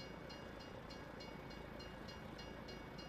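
A train rolls past in the Farming Simulator video game, a faint, steady rumble with a soft, regular clack of wheels over rail joints running throughout, with no voices over it.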